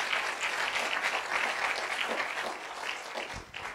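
A church congregation bursts into steady, full applause, many hands clapping in a dense, even wash that holds at a moderate level and eases slightly near the end.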